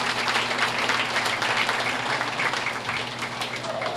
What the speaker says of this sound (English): Let's give this class a nice round of applause.